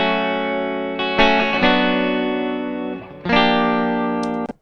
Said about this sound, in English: So that's the guitar sound, electric guitar. I'll play you without any processing.